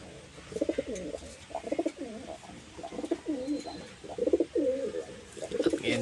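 Several pigeons coo steadily in a breeder's loft, their soft rolling calls repeating in close overlapping phrases over a faint background hiss.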